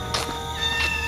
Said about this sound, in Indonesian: Oh beneran kucing.